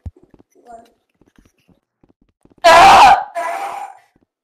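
A person screams loudly over Rec Room voice chat, with two harsh, piercing bursts breaking out suddenly after near silence.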